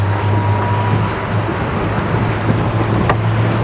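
An RS Pulse electric RIB boat running at speed on the open sea, with a steady motor whine under constant rushing water and heavy wind buffeting throughout, no voices.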